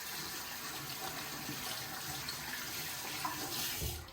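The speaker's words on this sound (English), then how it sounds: "after I rub that in for about a minute, then I rinse my hands off" Running tap water splashes steadily over hands being rinsed at a sink, a soft continuous gush heard faintly, with no voices.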